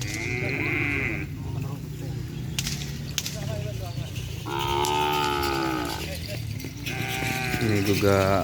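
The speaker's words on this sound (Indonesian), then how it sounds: "Ini juga ada sapi, banyak sapi kecil." Cattle, including small calves, mooing repeatedly at an outdoor field, several loud drawn-out calls close by over background chatter and crowd noise.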